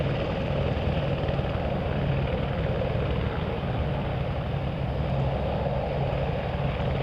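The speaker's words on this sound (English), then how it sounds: "Making its way out to the airfield where it will begin its takeoff run." An old 1983 propeller aircraft used for aerial surveys taxis out toward the runway at Hawarden Airport, its engine droning steadily and loudly throughout with no speech.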